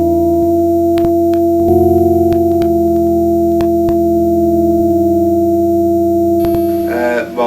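A bee-inspired swarm synthesizer set to a very low movement range holds a buzzy, distorted drone of sustained tones. Its notes step up and down one at a time, with sharp clicks between steps and a brief warble at the end.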